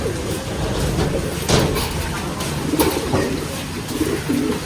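Racing pigeons coo in low, soft, repeated calls close by in a loft, mixed with wing flutters and a few sharp knocks. Rain may be heard in the background.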